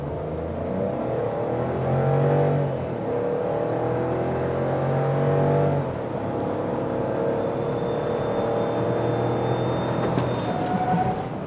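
A Chevrolet Tracker with a 1.2 turbo engine accelerates hard from a standstill to 100 km/h, the engine note rising through several gears with brief dips at each shift, heard steadily from inside the car.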